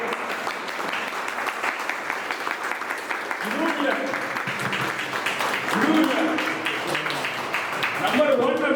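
An audience at a retirement function applauds steadily and warmly, a continuous patter of many hands that swells toward the end while a voice speaks over it.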